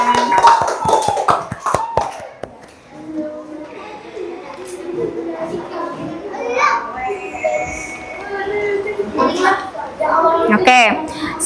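Children in an Indonesian classroom clap their hands in a quick burst of sharp claps at the start, then chatter and play noisily, with a few more scattered claps later.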